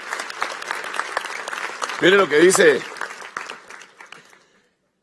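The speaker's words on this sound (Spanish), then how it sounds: "denle un aplauso al rey" Congregation applause during a church sermon, a short burst of clapping under the preacher's amplified voice, which speaks over it and then fades.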